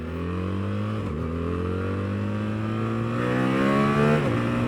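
Triumph Street Triple motorcycle engine revving hard during a wheelie, a steady rising whine that climbs through the gears with a brief dip at a shift, fairly close and alone without talk.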